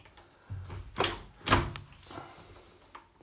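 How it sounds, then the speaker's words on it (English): A house door is opened, giving a few knocks, rattles and a clunk from the latch and frame, faint against quiet room noise. "Right, so just open the door there."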